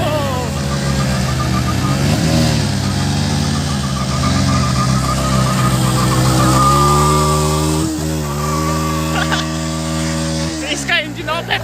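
A motorcycle engine revs hard as its tyre spins in place. The steady, loud droning whine shifts pitch over time, and voices talk over it throughout.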